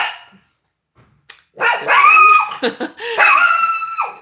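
A dog barks and yips close by, a few sharp loud calls after a quiet start, with one whimpering edge and no speech.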